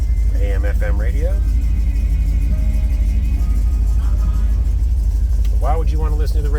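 A 1968 Chevrolet Chevelle SS with its numbers-matching 396 V8 running, a loud constant low rumble heard close throughout, with someone talking over it.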